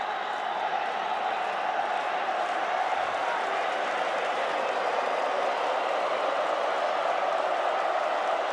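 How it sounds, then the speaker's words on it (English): Baseball stadium crowd at the WBSC Premier12 2024 championship game, rising for a full-count pitch in the ninth inning, a broad steady roar of many voices under a commentator's talk. "The crowd begins to build for a full count offering."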